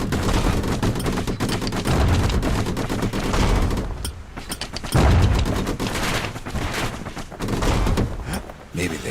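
Dense, continuous barrage of booming blasts from the magic mortar in the video game Bastion, with explosions overlapping loudly throughout and voices talking over the action.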